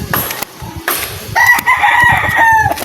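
Chickens are heard close by, with a loud rooster crow ringing out over clucking and scratchy barnyard noise, brief and vivid.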